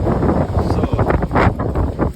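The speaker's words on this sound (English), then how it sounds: "it's very windy" Strong wind buffets the microphone outdoors in Zurich, Switzerland, a loud continuous rumbling roar with gusty surges throughout and no talking.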